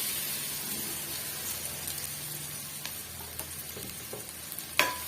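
Grated coconut, ground in a jar, sautés in a pan over a medium flame, giving a soft, steady sizzle with occasional scraping stirs and one sharper clink near the end.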